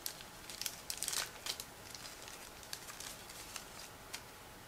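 A plastic bag holding photo-etched metal model parts is opened with soft crinkling and rustling, a cluster of crackles near the start, then sparse small crinkles, fairly quiet and with no talk.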